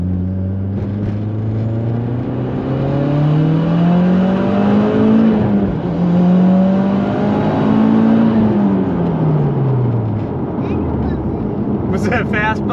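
A Mitsubishi Lancer Evolution X accelerates hard in third gear, its loud engine note rising, dipping at a shift, climbing again, then falling away as it lets off, while people talk faintly inside the car.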